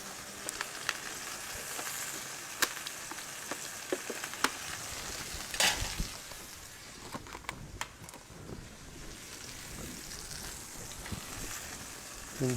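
Butter and a garlic clove sizzling gently in a pan, a soft continuous crackle with scattered spatula clicks and taps, close but low in level, with no talking.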